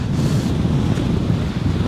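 Strong, steady wind roaring and buffeting the microphone on the mountain top of A' Chralaig in Kintail, a dense low rumble that never lets up.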